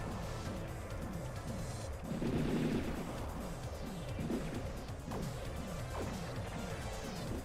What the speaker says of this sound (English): Okay, I've destroyed the cannon there.